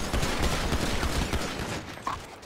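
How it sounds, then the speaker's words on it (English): Rapid gunshots in a GTA-style roleplay video game, a dense loud volley of overlapping shots lasting about two seconds before tapering off. "Shots fired!"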